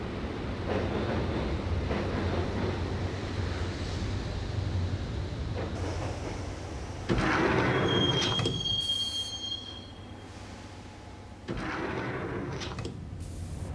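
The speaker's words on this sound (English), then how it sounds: "the train doors had already shut behind me, and I was in for the ride" A subway train in the Max Payne video game rumbles steadily along the rails, with wheels squealing in high screeches partway through, loud and enclosed, without any voices.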